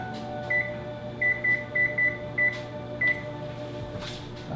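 An oven control panel beeps eight times in a short uneven series while being set to preheat, close and clear over a steady low kitchen hum.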